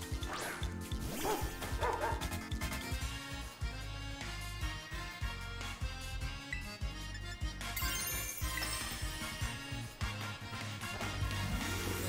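Dog Pokémon cries ring out during a battle in Pokémon Scarlet, yappy barks layered over busy battle music with chimes and impact effects, no voices.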